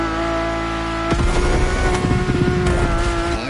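A Ferrari's engine heard from inside the cabin in the racing game Crew Motorfest, a steady droning hum that bursts into a louder, rougher rev partway through and holds strong to the end.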